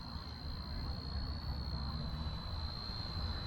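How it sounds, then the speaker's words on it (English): Bell 206 helicopter cruising in flight, a steady broadband engine and rotor drone with a constant high turbine whine on top, continuous and even with no talking. "I've done quite a few of these Bell 206 helicopters on the channel now."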